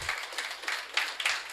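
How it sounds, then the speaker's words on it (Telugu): A crowd at a brand ambassador event claps for a master being honoured, a short stretch of quiet, steady applause. "కొండబాబు గారికి గట్టిగా చప్పట్లు కొడదాం."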